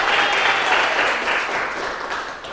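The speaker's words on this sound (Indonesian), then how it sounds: "Masya Allah, tepuk tangan untuk Aurora." A class of children applauding together, a dense burst of clapping that starts loud and gradually fades over a couple of seconds.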